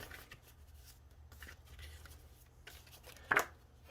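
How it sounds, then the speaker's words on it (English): Soft riffling of a tarot card deck being shuffled, quiet papery flicks, ending in one sharper snap of the deck. "we're going to shuffle your deck here."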